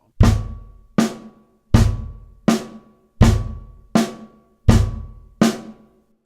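Eight evenly spaced drum hits ring out, each a sharp attack with a short decay, close and clear with no talking, as on a drum kit played with single strokes over a bass drum.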